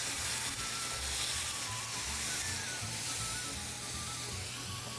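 Sage leaves toasting in a hot restaurant pan give off a steady, dense sizzle and crackle, loud and close, running unbroken with no talking.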